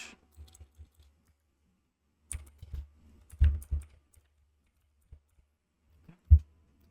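Short bursts of typing on a computer keyboard while building a logo in Adobe Illustrator: scattered clusters of close, quiet key clicks separated by silent pauses, with no voice.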